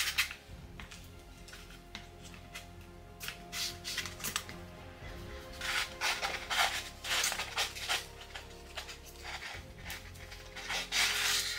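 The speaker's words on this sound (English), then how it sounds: "So I'm just rolling out my clay and I'm adhering it to my foam core skeleton" Clay being rolled out and pressed onto a foam core skeleton for a dollhouse build, heard as uneven rubbing, scraping and soft pressing bursts close up with a steady low hum underneath and no talking.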